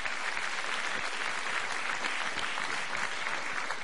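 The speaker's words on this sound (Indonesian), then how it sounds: "Kita berikan tepuk tangan untuk Presiden SBY." An audience applauds President SBY at a presidential inauguration ceremony, a dense and steady wash of clapping from many hands that holds an even level throughout, close and full, with no one speaking over it.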